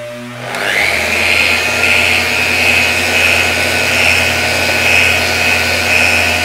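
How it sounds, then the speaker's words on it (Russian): A vacuum cleaner switches on in a car body repair job on a Mazda 6 bumper, running steadily, loud and close, with a high motor whine over a broad rushing roar. "надо же пылесос в розетку, наверное, включить"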